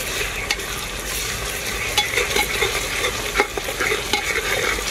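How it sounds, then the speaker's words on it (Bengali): Ginger-garlic paste fries in a pan ahead of a mutton curry in a pressure cooker, giving a steady close sizzle broken by sharp scraping strokes of a spoon stirring it, with no voices. "আদা রসুন বাটাটা আমি খুব ভালো করে ভেজে নিয়েছি।"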